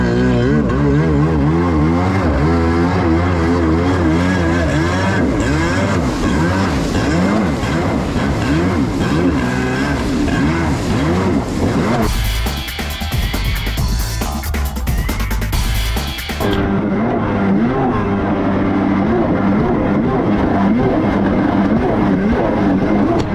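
A Kawasaki 650SX jet ski engine runs continuously at high power out on the water, loud and close throughout, with a brief change in tone partway through, when a burst of broadband noise like wind or spray takes over.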